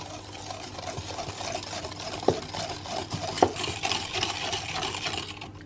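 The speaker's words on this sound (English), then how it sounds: "So I've added in the whole jar of marmalade, and now we'll gently mix it all through" Gentle stirring as a whole jar of marmalade is folded into cake batter, soft wet scraping and squelching with a couple of sharper knocks of the spoon against the bowl, quiet and close.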